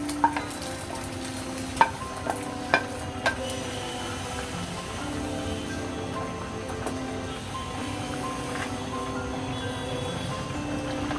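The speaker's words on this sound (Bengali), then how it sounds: "আমি আবার সরাসরি কড়াইয়ের মধ্যে ডিমটা দিয়ে দেব" Fried egg returned to a wok and stirred in oil; a soft continuous sizzle with a few sharp clinks of a spatula early on, heard close and steady.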